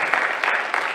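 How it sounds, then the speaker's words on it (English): Audience clapping at a fundraising music concert, a brief burst of crowd applause with a few sharper claps standing out, fairly close and steady. "Give a big round of applause to Dr. Tushar Patel, Sheena,"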